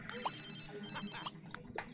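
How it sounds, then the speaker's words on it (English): A phone ringtone chirps in The Sims 3 video game, short bright tones repeating in an irregular pattern over soft background game sounds, fairly faint, with no speech. "Whose phone is ringing?"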